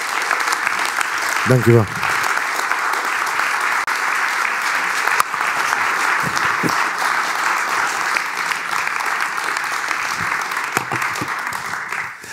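Audience applause after a presentation at a closing event, broad steady clapping filling the room throughout, with a brief spoken thank-you near the start and a few low thumps under the noise.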